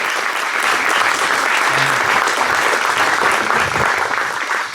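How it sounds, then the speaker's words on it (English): Round of applause at a 30th anniversary celebration for board members and alumni, loud continuous clapping from a crowd with faint background voices, fading slightly at the end. "Let's give everyone again a round of applause, everyone on the board, all of the alumni."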